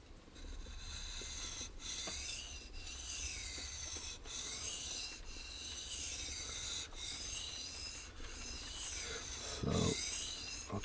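A Schrade Frontier SCHF42D knife blade with a coated finish is drawn across a sharpening stone in steady, evenly spaced rasping strokes, each stroke a close, bright scrape.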